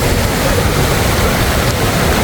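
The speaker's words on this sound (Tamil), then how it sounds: "கரை புரண்டு ஓடுது." Steady loud rush of river water pouring through a flooded wadi near Salalah in Oman during the monsoon season, a dense continuous roar with no pauses and no voices.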